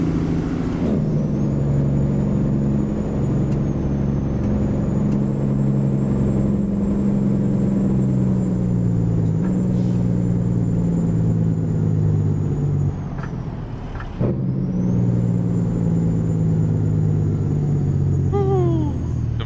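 Engine brake on a simulated Peterbilt 389 truck hauling cows in American Truck Simulator, held in 15th gear: a loud, steady low rumbling drone that holds almost unbroken, with one brief dip partway through.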